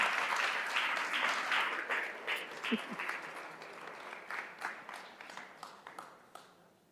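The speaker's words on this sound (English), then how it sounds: "Let us give her a round of applause." Applause from the audience at a women's awards ceremony, a sustained wash of many hands clapping that peaks early, then thins into scattered, uneven claps as it fades.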